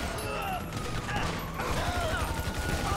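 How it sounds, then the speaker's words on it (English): Dense rapid gunfire aimed at police officers in Grand Theft Auto V with a SWAT team mod, a continuous crackling barrage with crashes under voices talking throughout. "Shoot the coppers."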